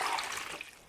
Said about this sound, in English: So we put in the water,